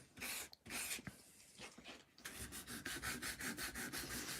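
Foamex board being hand-sanded to key and texture its surface for painting, close and quiet: a few uneven scrubbing passes, then a run of quick, regular rhythmic rasping strokes.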